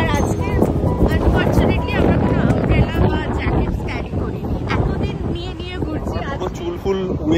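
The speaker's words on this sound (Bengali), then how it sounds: "ঠান্ডা হাওয়া আর সমুদ্রের শব্দ একদমই ফ্রেশ" Cold, strong wind gusts across the microphone at an English seaside coast within reach of London, with the sea rumbling underneath and voices faintly audible through the steady roar.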